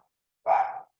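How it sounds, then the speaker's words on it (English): A pet dog named Piper gives a single short bark, fairly close and clear, breaking into an otherwise quiet moment. "sorry for the dog"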